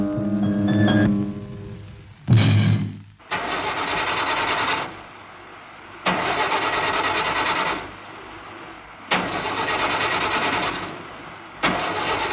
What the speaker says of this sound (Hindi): गाड़ी स्टार्ट नहीं होगा, फेल हो गया।